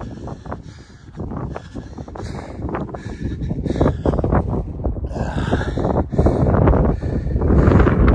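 Cold wind blowing across an exposed mountain bald, a steady loud roar buffeting the microphone that swells stronger toward the end, with no voices.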